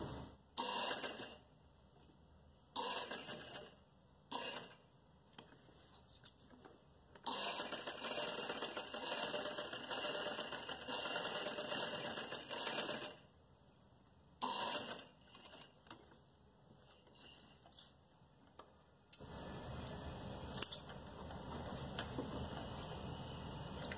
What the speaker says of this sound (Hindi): थोड़ा सा डबल करेंगे सिलाई को